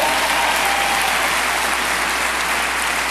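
Loud, dense applause fills a large hall at a 2010 Market America leadership conference, a continuous even roar of many hands clapping at once with no break.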